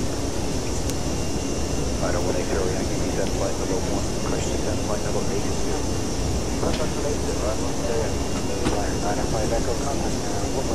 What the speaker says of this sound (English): do people want the engines turning down or not? Because I probably will turn them down because they're a bit loud for me